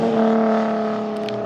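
Nissan Z drift car engine revving hard at a drift event, a loud, steady, near throttle hold with strong low harmonics that eases slightly toward the end.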